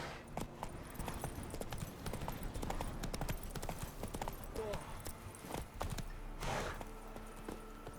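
Horse hooves clip-clop steadily in The Witcher 3, a close, rhythmic string of hoofbeats carrying on under intermittent game dialogue and ambient noise.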